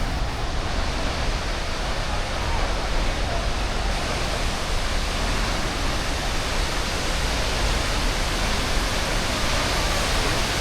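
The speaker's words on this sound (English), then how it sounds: "you can hear the raw power of the waterfall" A roaring waterfall in a national park near Puerto Varas, Chile, fills the air with a loud, unbroken broadband rush of falling water, steady and close throughout.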